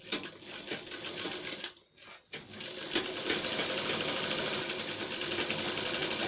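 A sewing machine stitches a neck border on a garment, running steadily and close, with a short pause about two seconds in before the rapid stitching resumes and continues to the end.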